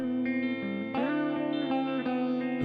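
A sustained, heavily distorted electric guitar from a song playing held chords with a few changes, loud and buzzy with no voices.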